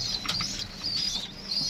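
Pigeons in a loft setup flap their wings in short fluttering bursts, near and fairly loud, with faint cooing and chirps of other birds behind.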